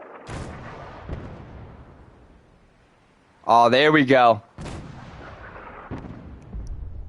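A cannon fires in the video game Fallout, giving several sharp booming shots spread across the clip. Someone speaks briefly between the blasts.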